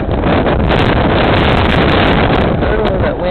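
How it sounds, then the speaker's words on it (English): Strong wind from a snow blizzard in Tucumcari, New Mexico, batters the microphone as a loud, continuous roaring rush with gusting buffets throughout. "Oh, that wind's strong."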